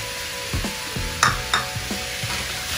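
Onion frying in a pan is stirred with a spoon that scrapes and knocks in several distinct strokes over a steady background sizzle, close by and alone.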